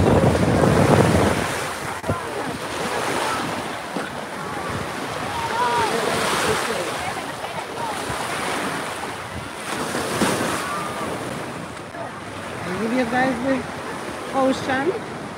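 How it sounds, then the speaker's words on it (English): Ocean waves break and wash on a South Florida beach, a loud continuous roar of surf mixed with wind buffeting the microphone, while people talk nearby and voices rise toward the end. "Ocean."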